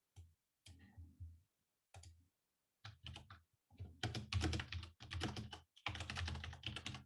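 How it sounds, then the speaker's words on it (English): Typing on a computer keyboard, close and crisp, in irregular bursts of rapid clicking separated by short pauses, growing busier and denser toward the end. "Typing noises intensify."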